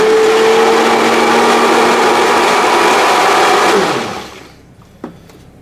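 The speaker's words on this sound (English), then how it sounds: "Wasn't too bad, this fucking hand blender after all" A hand blender whirs steadily at high speed in a kitchen, loud and continuous, then winds down and stops, followed by a small clink.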